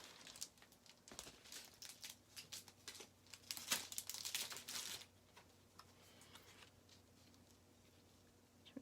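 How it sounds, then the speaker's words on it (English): Scrap Designer Series paper is handled in a papercraft setting, giving quiet crinkling and rustling with short sharp crackles, busiest through the first five seconds and then settling to a soft background. "So I'm going to take a scrap piece of my Designer Series paper."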